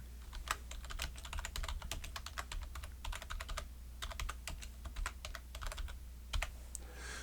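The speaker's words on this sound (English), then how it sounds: "So let me type that." Typing on a computer keyboard, a steady stream of quick, crisp key clicks with short pauses, close and fairly quiet, with no talking.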